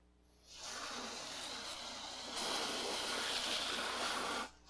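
Simple Green degreaser sprays onto a steel wheel from a BMW 2002 in one steady, close hiss of about four seconds that swells slightly partway through, with no talking.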